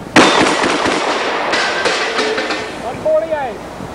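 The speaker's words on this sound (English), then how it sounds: "let's see Jim shoot these metal targets with a shotgun" Shotgun blasts strike metal targets outdoors, a few sharp reports with ringing metallic clangs as the steel plates are hit, fairly close and loud.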